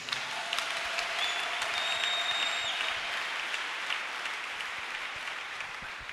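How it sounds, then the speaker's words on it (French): Church congregation applauding and cheering together in a steady, dense wash of clapping that holds for several seconds at a fairly close, full level, with a brief whistle-like tone rising above it early on. "Acclamons Jésus"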